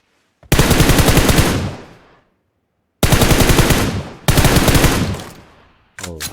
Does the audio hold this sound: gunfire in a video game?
yes